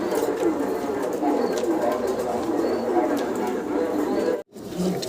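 Pigeons cooing steadily at a farm where birds are kept in cages, a continuous low cooing chorus close by with a brief dropout near the end.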